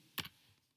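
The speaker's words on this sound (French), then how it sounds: "J'appuie sur Entrée." A single Enter key pressed on a computer keyboard, one quick, faint plastic click with a slight double tap, close and isolated in a quiet room.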